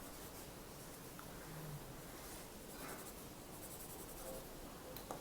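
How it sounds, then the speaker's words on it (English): Pencil scratching on paper while drawing a Zentangle border, a faint continuous soft rubbing and scraping with slight variations in stroke, very quiet and close. "I'm going to add my pencil like this in an L shape here, just around the border."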